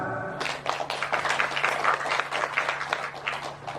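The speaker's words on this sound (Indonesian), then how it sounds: "Tepuk tangan." An audience at an organizational gathering in East Java claps in a scattered, uneven burst of applause after a brief tone, moderately loud and continuous to the end.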